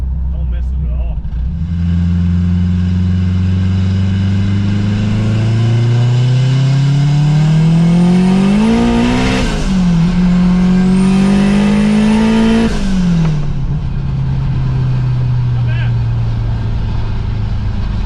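A Honda S2000 engine revs hard, its pitch climbing through two long pulls with a brief drop between, loud and close, then falls back to a lower drone.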